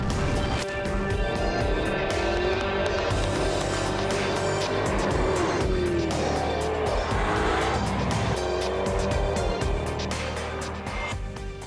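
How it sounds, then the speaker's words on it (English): A Jaguar XKR sports car with a supercharged 5-litre V8 drives hard, its engine roaring loud and continuous with shifting pitch, tyres squealing at moments and music playing along underneath. "it's a supercharged 5-litre V8 that packs quite a punch"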